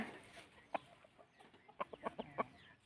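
Fighting cocks sunbathing in the open, giving a few soft clucks and short calls in a quiet scattered cluster, faint and mid-distance with no talk.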